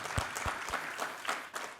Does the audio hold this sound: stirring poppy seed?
no